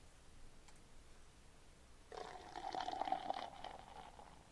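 In the Surgery Squad video game, bleach is poured into a tooth canal, producing a steady, soft liquid pour that starts abruptly and trickles on for a couple of seconds at moderate volume.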